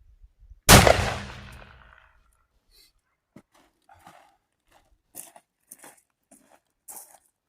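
One loud, close blast from a 300 Winchester Magnum rifle cracks out and rings off over about a second, followed by quiet scattered clicks and rustles.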